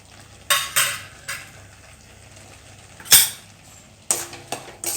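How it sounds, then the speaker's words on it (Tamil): Sweet pongal made with black kavuni rice, with cardamom powder added, is stirred in a pot, giving a few sharp scraping and clinking strokes spread across a quiet background. "சேர்த்து நல்லா கிண்டி விட்டுக்கலாம்."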